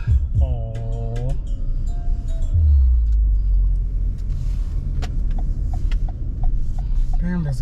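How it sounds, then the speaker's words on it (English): A bus rumbles past close by on a street, a loud low engine roar swelling in the middle and fading, with a car horn-like tonal bursts at the start and end and a voice talking over it. "Damn, there's a bus son of a bitch."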